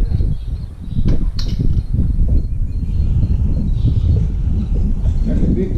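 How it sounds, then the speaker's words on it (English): Outdoor wind buffeting during a crappie fishing outing: steady low rumble with gusts throughout, brief sharp handling noises early on, no clear speech. "That big wind got me too."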